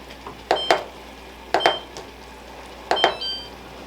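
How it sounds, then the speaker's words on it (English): A kitchen timer is set for jelly making on a stove. It gives three pairs of short, bright electronic beeps at steady intervals, close and clear, with no talking. "let's go ahead and set up a timer here"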